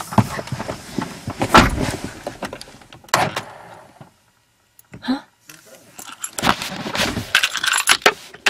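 Keys jangle close by in repeated metallic bursts at a swamp safari park, mixed with clunks like a door or vehicle, with a short quiet gap midway before more rattling.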